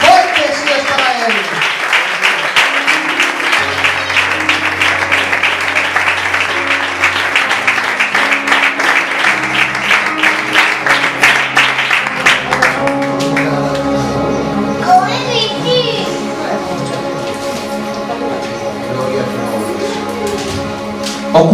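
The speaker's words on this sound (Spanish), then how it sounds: "¿Cuántos le ofrecen un aplauso al Señor en calidad de ofrenda?" A church congregation gives loud, sustained applause as an offering to the Lord during a sermon, dense clapping that later blends with music and voices.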